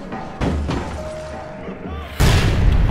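Rocket explosion in APB Reloaded, heard as heavy booming thuds, with a big blast near the end, under continuous game noise and some voices.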